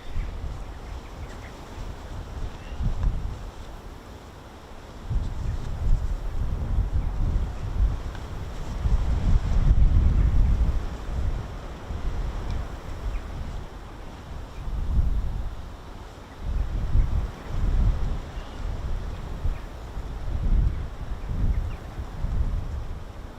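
Gusty wind at an RAF airfield buffets the microphone in long, uneven low roars that rise and fall, swelling strongest in the middle, with no voices.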